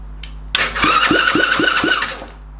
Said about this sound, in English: Key ignition starter works.